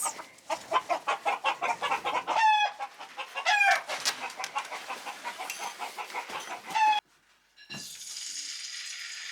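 Angry roosters crowing loudly and repeatedly amid constant hen clucking and squawks, a dense, close farmyard racket that cuts off abruptly, followed by a brief quieter stretch of softer background noise.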